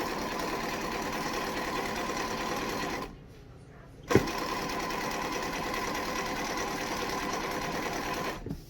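Sewing machine stitching a quarter-inch seam on quilt strips, a steady loud mechanical whir that stops briefly for about a second, then resumes with a single thump and runs on to the end.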